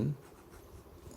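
A pen writes on paper while working through a geometry proof, giving a short, soft scratching stroke close by, with a brief low thump at the start.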